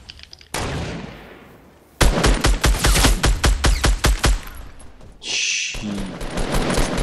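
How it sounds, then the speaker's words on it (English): Rapid bursts of Fortnite gunfire in a Battle Royale squad match: a loud shot, then a dense run of repeated cracks firing in quick rhythm, followed by a sustained rushing noise, with no talking over it. "They're trying to shoot me now."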